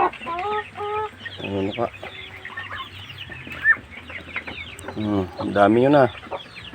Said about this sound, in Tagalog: May mga sisiw na.